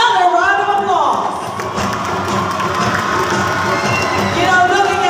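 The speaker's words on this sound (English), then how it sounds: "Let's show them some love by giving them another round of applause." Audience applause and cheering for Hiyas sa Kadayawan 2023 pageant candidates in Davao City, a dense, loud, continuous crowd roar with claps and shouts, a voice speaking over it at the start.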